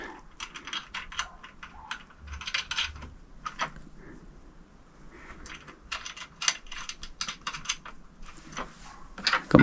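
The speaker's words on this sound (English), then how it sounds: "Got my chunkier of the two Allen keys for that and a ring head spanner just to nip those up." Metal tools, an Allen key and a ring spanner, click and scrape against bolts as a telescope wedge and tripod are tightened, in irregular clusters of sharp close taps and rattles.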